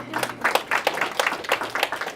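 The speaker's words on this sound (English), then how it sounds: "You guys, give yourselves a round of applause" A small startup-week audience claps briefly, a modest, somewhat uneven burst of hand claps with distinct individual strokes, close and moderately loud.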